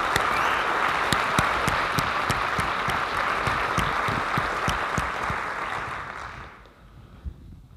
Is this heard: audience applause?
yes